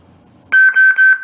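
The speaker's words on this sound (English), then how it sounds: "press and hold this button until you hear 3 loud beeps" Three loud, high electronic beeps in quick succession from a toy lightsaber, each a steady tone with short gaps, after near silence.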